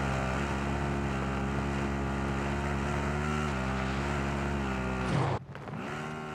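Vehicle engine in Call of Duty Warzone, a loud steady droning hum with harmonic overtones that shifts slightly in pitch, then cuts abruptly near the end and settles to a lower rumble.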